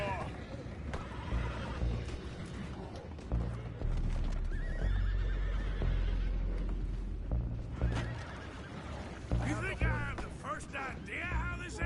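Horses neigh and whinny repeatedly in the game Red Dead Redemption II, mixed with hoof clip-clops and a dense game soundscape, with voices talking over parts of it.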